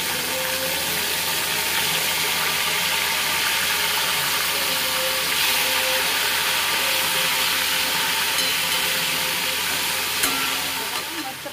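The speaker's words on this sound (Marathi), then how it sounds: "अशा प्रकारे आपल्या सगळ्या मिरच्या अशा भाजून घ्यायच्या तेलामध्ये" Green chillies fry in hot oil with a steady, dense sizzle and hiss that holds close and loud throughout, broken now and then by faint stirring.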